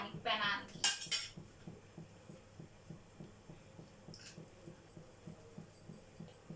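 A ladle stirring oil around a heated frying pan for potatoes and eggs, giving repeated light scraping strokes in a steady rhythm, with a couple of metallic clinks at the start and faint talk in the background.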